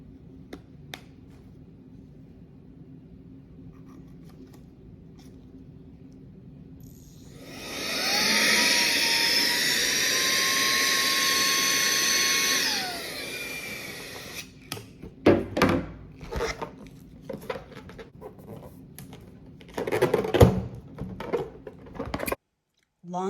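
A SAKER vacuum cleaner fitted with a long blowing nozzle starts up loudly, runs with a steady high whine for several seconds, then winds down, followed by handling clatter and bumps.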